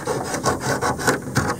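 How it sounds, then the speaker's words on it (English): A hand sanding block rasps back and forth over a wooden strip on a 17-foot-6 prospector canoe, producing steady rhythmic scrubbing strokes, close and fairly loud, about six passes with no talking. "I got this little thing here as a sanding block"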